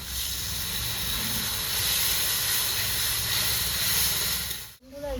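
Water poured into a hot pan of curry for a fish, potato and cauliflower dish gives a steady loud sizzling hiss with steam, sustained for several seconds before cutting off abruptly near the end.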